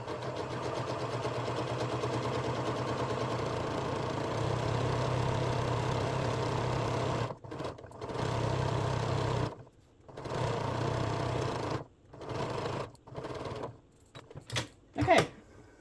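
A sewing machine runs steadily while stitching the fabric of a boho ruffle top, a continuous motor whir for about seven seconds, then several shorter bursts of stitching separated by brief pauses.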